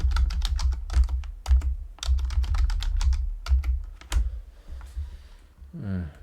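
Rapid keystrokes on a computer keyboard as a password is entered during an Oracle Linux 8 install in a VirtualBox virtual machine, a close, steady burst of clicks that thins out toward the end.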